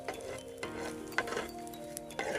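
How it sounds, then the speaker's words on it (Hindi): Gond (edible gum) frying in ghee: a soft, steady sizzle with occasional clinks and stirring scrapes of a spoon against the pan, faint and close, no talk. "ये गोंद हमारी फ्राई हो चुकी है।"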